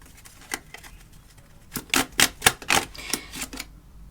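Tarot cards shuffled and slid from the deck at close range, giving a run of crisp, rapid papery clicks and flicks that peak in the middle and thin out toward the end.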